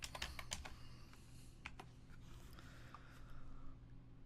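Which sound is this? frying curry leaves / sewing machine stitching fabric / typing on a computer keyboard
typing on a computer keyboard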